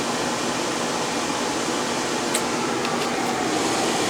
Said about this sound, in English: I have a fan now that's drying out the carpet.